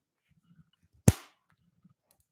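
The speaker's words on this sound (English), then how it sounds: "That was the sound of my elastic waistband hitting my skin." A long-underwear elastic waistband snaps against skin in one sharp, loud crack that dies away fast, with faint rustling before and after.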